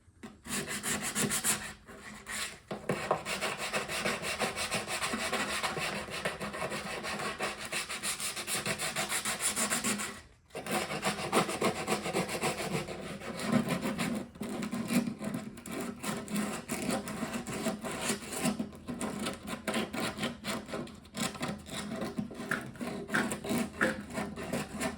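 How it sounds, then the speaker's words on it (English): Steady hand sanding of a metal cowl vent panel from a 1976 Mercury Monarch with rough 80-grit sandpaper, a continuous close scratchy rasp in back-and-forth strokes with one brief pause midway. "All I'm really doing is scratching up that metal real good. 80 grits rough"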